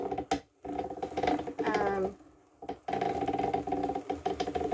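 Mechanical clattering and whirring of a hand-cranked Brother drum carder turning, with a steady ratcheting texture and a brief pause partway through.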